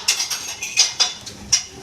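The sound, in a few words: mixing ghee and ingredients in a bowl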